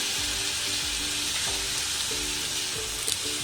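Prawn shells sizzle and fry steadily in a hot pan for a Kerala-style prawn curry, a continuous close crackle with no voices.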